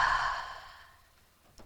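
A deep breath during a guided breathing exercise, a long breathy exhale or sigh that tapers off into quiet, followed by a short soft intake near the end, close and intimate.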